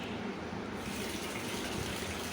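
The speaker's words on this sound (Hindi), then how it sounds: "तो चलिए अब मेरी स्टार्टिंग होती है काम यहाँ पानी भरने से।" Tap water gushing steadily into a bucket at home, a loud, continuous splashing rush that stays constant from start to end.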